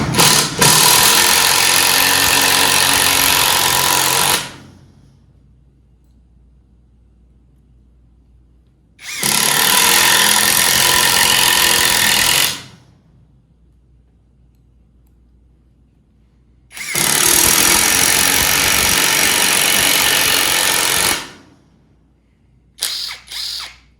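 An Alloyman 1/2-inch impact wrench drives drywall screws in three loud, sustained bursts of hammering mechanical rattle, each about four seconds long and separated by silence, followed by a brief fourth burst at the end.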